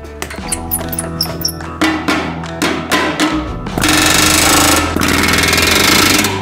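A power tool rattles in short bursts, then a louder sustained grinding drill runs continuously for a few seconds, close and harsh.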